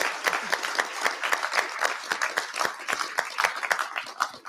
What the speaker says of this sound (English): Can we have a massive round of applause for Greg?